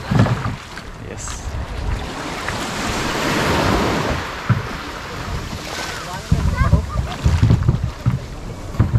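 A boat rocks on ocean waves off Mindoro with wind buffeting the microphone, water sloshing and surging, and bursts of nearby chatter toward the end.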